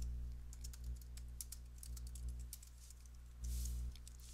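Fingers type text on a computer keyboard in a quick, uneven run of soft clicks, faint and close over a low electrical hum, with no one talking.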